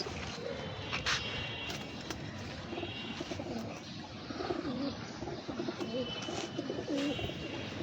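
Pigeons coo in low, repeated bursts against a busy outdoor background of wind and rustling, with occasional brighter chirps and soft footsteps nearby.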